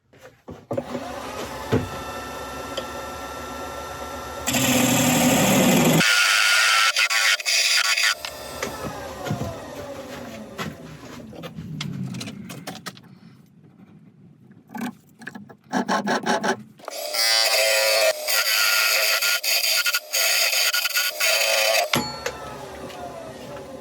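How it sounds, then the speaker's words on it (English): Oak spinning on a woodturning lathe while a tenon is cut, shot-glass blank in progress: steady motor hum with loud harsh scraping bursts of tool contact, stopping and restarting, close up. "So I'm going to turn a tenon at this side and then cut off about there somewhere, I think."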